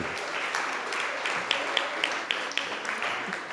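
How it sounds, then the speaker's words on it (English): Applause at a NAACP Founder's Day gathering, a steady crowd clapping heard from a distance, fairly soft, with a few sharper individual claps standing out near the end. "Let's have another round of applause for that amazing Ann Curtis"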